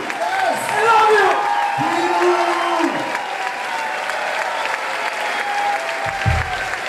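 A concert crowd at Le Trianon in Paris applauds and cheers in a sustained, loud wash of clapping, with an amplified voice speaking over it.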